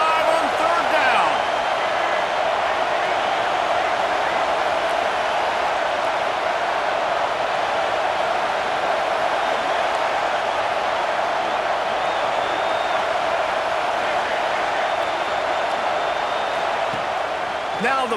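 Buckeye stadium crowd in EA Sports College Football 26 on third down: a dense, sustained roar of cheering fans filling the background at constant loudness, with a commentator talking over it.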